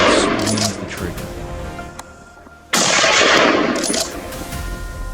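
A rifle fires a single shot at a wild boar during a hunt in New South Wales bushland, a loud sharp blast followed by a sustained roaring wash of ambient noise, with a brief quieter lull before it.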